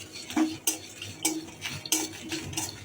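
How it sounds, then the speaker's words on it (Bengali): Peanuts, coconut and white sesame are dry-fried in a pan, with a utensil stirring and scraping in a regular pattern of sharp, close clinks and scratches and no talking. "অল্প একটু বাদাম, নারকেল আর সাদা তিল এগুলো ভেজে নিচ্ছি।"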